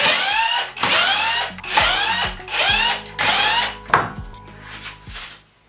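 A power drill bores holes for a mounting bracket on a crashed Nissan 350Z, in five or six loud, close bursts of whining spin-up and bite, separated by short pauses, with no talking.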